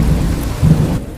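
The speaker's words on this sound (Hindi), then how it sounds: "बारिश अब भी वैसी की वैसी तेज होती रहती है।" Heavy rain pours steadily with a low roll of thunder swelling midway, loud and close, with no voices.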